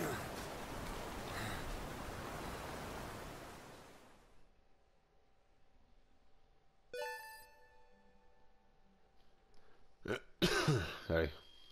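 A throat-clearing cough sounds toward the end, close and sharp, after a stretch of steady rushing noise and a quiet pause with faint tones.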